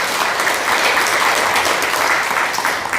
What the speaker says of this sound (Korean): 우리 해조 스님한테 큰 감사의 박수를 한번 부탁드리도록